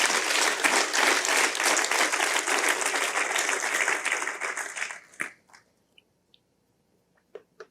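A church congregation bursts into loud, sustained applause for about five seconds, steady and dense, then cuts off abruptly, leaving only a few scattered faint claps and small noises in the quiet afterward.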